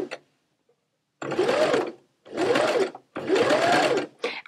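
Sewing machine stitching appliqué fabric, running in three loud, steady bursts of about a second each with short quiet pauses between them, close up and with no talking.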